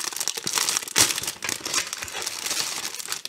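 Plastic bags crinkle and rustle close up during the unboxing of a Playmobil City Action fire station toy set, in irregular crackling handling noises with one sharp louder crunch and no speech.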